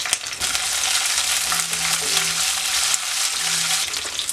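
Ten to twelve raisins fry in oil alongside cashews with a continuous hissing sizzle, soft stirring scrapes and occasional brief pops, close by.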